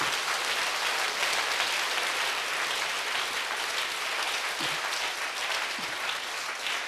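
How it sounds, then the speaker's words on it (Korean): Church congregation at a Sunday worship service clapping hard together, a thick, uniform roar of many hands at steady loudness, sustained for about seven seconds. "자, 박수를 세게 칩시다"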